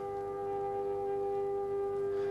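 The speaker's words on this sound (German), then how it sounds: "Die Sirenen läuten 2 Schweigeminuten ein." Civil defense sirens across Jerusalem sound a steady, sustained tone marking two minutes of silence, heard continuously from a distance with no voices.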